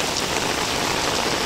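Heavy rain pours during Typhoon Saola in Hong Kong, a loud, dense, unbroken hiss of drops hitting surfaces close by, with no voices.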